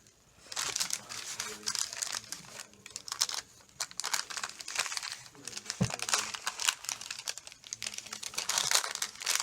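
Wax paper crinkles and rustles steadily up close during candle stamping, a continuous crackling of handling and folding with brief louder crunches.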